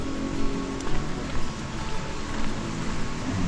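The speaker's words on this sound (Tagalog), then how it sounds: "Nabasa nga tayo sa ulan." Rain falls outdoors in a rural area near a river, a dense, even hiss filling the whole stretch at close range, with faint patters and low rumbling underneath.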